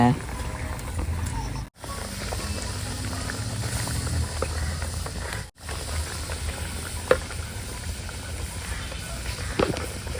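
Fish curry, with sankara and other mixed fish, simmering in a pot on the stove, a constant bubbling sizzle heard beneath nearly continuous conversation.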